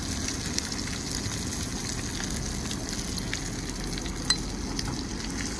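Garlic and rosemary sizzle steadily in a hot pan alongside a ribeye steak, a continuous close crackling hiss with a few sharper pops and no talk over it.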